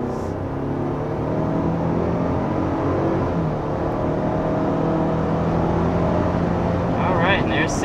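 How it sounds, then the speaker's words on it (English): A 2021 Ford Bronco with the 2.3L EcoBoost turbocharged four-cylinder accelerates with a steady, rising engine drone and road roar, heard from inside the cabin at constant loudness, with faint talk at the end. "there's 60 miles per hour with this all new Bronco"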